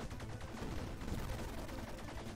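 Rapid gunfire from shooting a boss in the video game Bleed, a dense, continuous stream of shots that stays loud and steady throughout with no talk over it.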